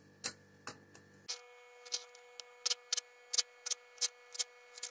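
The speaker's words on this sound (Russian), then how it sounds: "А после уже нарезаем кубиками." A knife cuts chicken fillet into cubes on a board for chopped cutlets, giving a string of short, crisp taps at an uneven rhythm, close and fairly faint, over a steady background hum.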